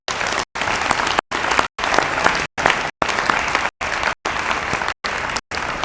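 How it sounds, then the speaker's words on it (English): An audience at an annual meeting of the Crispus Attucks organization applauds steadily, dense hand clapping filling the room, heard in repeated bursts broken by short silent gaps. "join me in applauding and giving those guys a hand."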